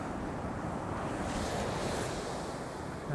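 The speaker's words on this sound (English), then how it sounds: "Waves on the rocks." Ocean waves break over rocky shore at Ragged Rocks, a steady, loud rushing surf with continuous wash and spray, roughened by wind buffeting the microphone throughout.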